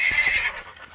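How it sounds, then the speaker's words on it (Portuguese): A horse in the video game Survivalcraft gives one short, loud, close whinny that fades after about half a second. "Cavalo!"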